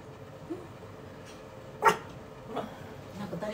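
A dog gives a single sharp bark indoors in Hakodate, Hokkaido, set against a quiet room, followed by faint soft sounds.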